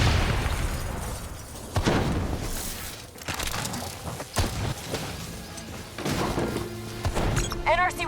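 Rogue robots detonate during a Call of Duty: Black Ops 3 campaign scene, several heavy booms and crashing impacts spread across the moment, with game voices and effects layered over them.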